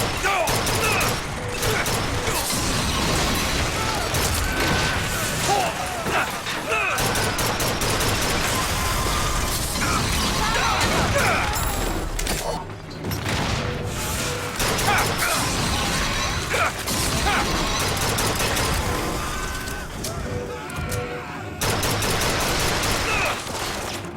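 Gunfire and turret fire rattle through a chaotic battle in BioShock Infinite, a dense, continuous barrage of shots, crashes and impacts filling the scene loudly with little pause.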